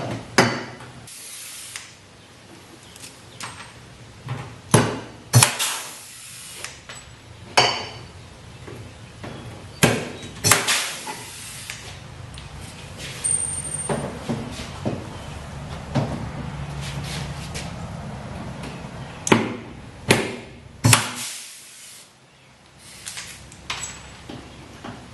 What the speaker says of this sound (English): And then take a rivet gun,